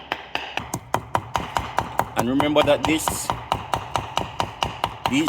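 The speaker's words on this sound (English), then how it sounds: "with the pestle, you start to knock and beat it" Regular wooden pestle strikes pounding Joseph's coat leaves in a mortar for a poultice, a steady rhythm of sharp, close knocks roughly every third of a second, with a person talking briefly over them midway.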